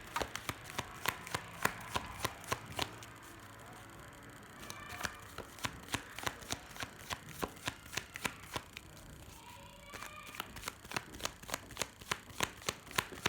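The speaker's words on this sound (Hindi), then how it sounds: "मैं शफल कर रही हूँ" Tarot cards being shuffled by hand in a quiet room, a steady run of crisp riffling flicks and slaps repeating close to the mic, with no voices.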